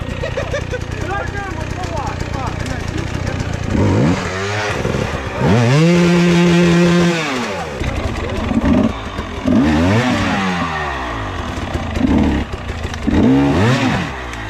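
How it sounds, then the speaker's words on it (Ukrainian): Hard enduro motorcycle at the final stage of the 2024 Ukrainian Hard Enduro Championship, struggling uphill through stiff mud; its engine revs and strains in bursts, with people talking over and between the revs. "Ось людина йде, тут мотоцикл, дуже тяжко виїжджати, особливо вверх."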